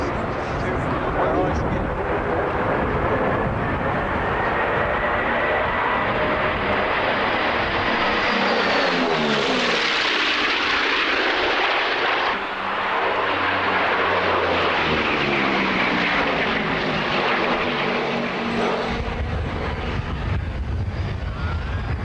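Propeller engines of warbird aircraft drone loud and continuous, rising and falling in pitch as the planes pass, with speech underneath.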